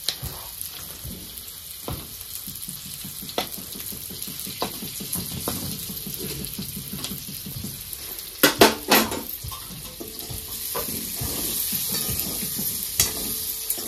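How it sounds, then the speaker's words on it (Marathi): Small potatoes for a Marathi dum aloo sizzle in hot oil as a spoon stirs them, with steady frying hiss, repeated scraping strokes and a few sharp clinks of metal against the pan, no talking. "तर 2 मिनिटांसाठी मी ह्याला चांगलं तेलामध्ये हलवून घेतलेलं आहे, फ्राय केले ती बटाटे।"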